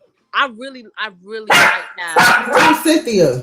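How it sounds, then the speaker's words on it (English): Near the end, a dog barks several times in a close, loud run of yaps behind people talking; before that, voices speak over a quiet background. "There's a dog barking."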